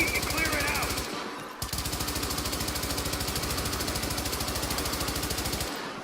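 An MG5 machine gun fires in a video game: rapid, evenly spaced shots in a long loud burst, a short pause, then another sustained stream of fire.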